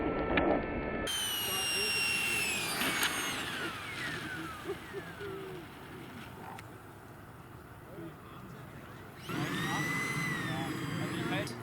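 An RC Sea Harrier model jet engine whines steadily during an approach, its pitch sweeping up and down with throttle changes, holding a continuous loud roar throughout with a brief surge near the end.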